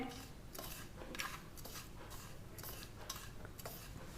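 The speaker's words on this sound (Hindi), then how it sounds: "इस मसाले को अच्छी तरह मिक्स कर लेना है" A spoon stirring masala in a pan for a small-aubergine (baingan) curry, with soft, continuous scraping and light sizzling, faint and close, plus a few quiet clinks of utensil against the pan.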